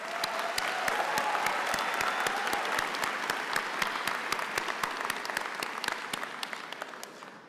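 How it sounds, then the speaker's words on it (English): Sustained applause from a graduation commencement audience, a dense wash of clapping with sharp individual claps standing out throughout, steady and loud before tapering slightly toward the end. "Graduates, let's give them a round of applause."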